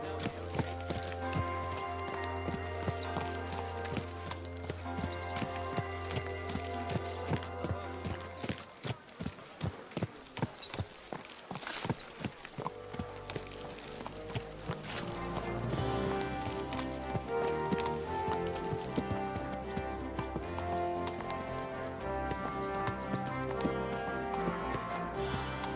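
Horse hooves clip-clop at a steady walking pace through a Kingdom Come: Deliverance II game scene, with a burst of faster hoofbeats midway, all over a continuous bed of game music.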